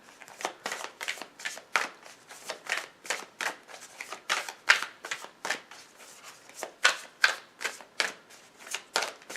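Tarot and oracle cards are shuffled close up in a brisk, rhythmic run of crisp riffling snaps, about two per second and evenly spaced, with no talking.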